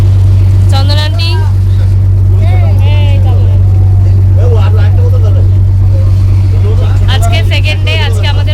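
A passenger launch boat underway in the Sundarbans, its engine a loud, constant low drone throughout, with people talking over it in several bursts.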